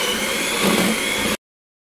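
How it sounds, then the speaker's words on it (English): An electric whisk runs through butter, oil and sugar in a bowl, giving a steady motor whir that swells slightly midway, then stops abruptly after about a second and a half. "I've got some butter, oil, and sugar in my bowl, and I'm going to start whisking this together"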